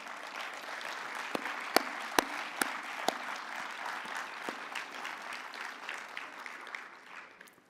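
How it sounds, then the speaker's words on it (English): An audience claps at a conference closing ceremony, a steady wash of moderate applause with a few sharp, louder claps near the front, heard from some distance and fading out toward the end. "I would love you to give them a round of applause for the amazing job they did."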